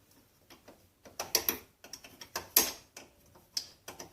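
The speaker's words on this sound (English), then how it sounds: "this one you got to use a wrench on to take off" Wrench work on the front axle of a Honda 300 4x4 ATV, a run of sharp metallic ratcheting clicks and clanks in irregular bursts, close and fairly loud, with no talking.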